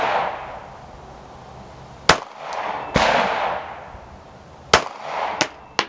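A Glock 42 pistol firing four sharp shots at uneven intervals, each a loud, close crack followed by a brief ringing tail, with quieter clatter and rustle between shots.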